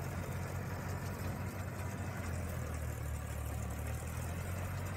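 Eicher 557 tractor diesel engine idling in a farm field, a steady low rumble with constant broadband noise, moderately distant and unvarying throughout.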